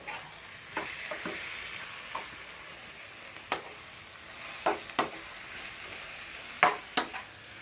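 Masala being stirred and fried in a pan for a family chicken curry: a soft continuous sizzle broken by scattered scraping taps of the spoon, close but quiet, with no voices.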